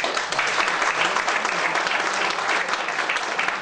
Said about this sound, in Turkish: O yüzden ben girişimcilere bir alkış rica ediyorum